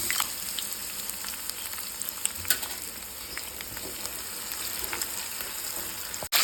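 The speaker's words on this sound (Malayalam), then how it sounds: "ഈ ചട്ടി അടുത്ത് കുറച്ച് കുറച്ച് നെയ്യ് അങ്ങോട്ട് ഇട്ടേക്ക് വേണം വെട്ടിച്ചിട്ട് അണ്ടിപ്പരിപ്പ് ബദാം ഇതൊക്കെ വറുത്തെടുക്കാൻ വേണ്ടിയിട്ട്" Steady crackling sizzle of cashews and almonds frying in hot ghee, with a few faint clicks and scrapes from stirring.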